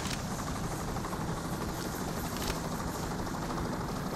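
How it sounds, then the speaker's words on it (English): Helicopters in the video game PAYDAY: The Heist make a continuous whirring, buzzing rotor drone, steady and fairly loud with no talk over it. "Choppers."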